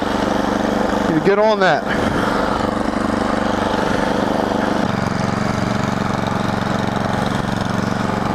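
A snowblower engine runs steadily through a blizzard, a loud continuous drone that holds throughout, with a brief louder surge near the start and a voice speaking over it.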